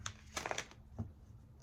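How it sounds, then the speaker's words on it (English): Tarot cards being shuffled by hand: a few quiet, papery riffling bursts in quick succession, then fading to near silence. "we'll go ahead and shuffle the cards."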